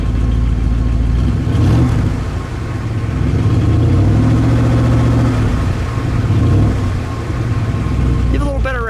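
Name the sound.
1967 Oldsmobile 98 convertible engine revving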